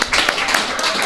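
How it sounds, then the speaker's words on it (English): An audience claps in a brief burst of applause, dense and close. "And listen to that applause, Kelly"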